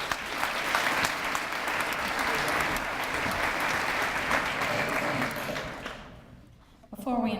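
An audience at a children's awards ceremony applauds an honoree with steady, fairly distant clapping that fades near the end before a voice cuts in.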